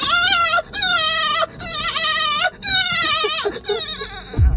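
A person imitating a dog with a run of long, wavering howl-like vocal cries, four drawn-out sounds close to the microphone with brief gaps, ending in a thump.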